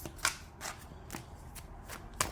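A deck of tarot cards being shuffled by hand, a series of soft riffling flutters with a few sharper snaps, close and fairly quiet, with no talking.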